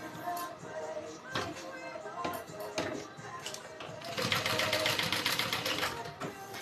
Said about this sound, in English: So we're going to sew this in place.